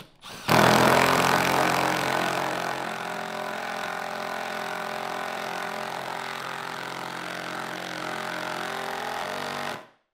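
A Milwaukee impact driver fitted with a 1/2 inch multi-nut driver bit runs in one loud, continuous burst of about nine seconds, with a rough, rapid hammering whine that cuts off abruptly at the end.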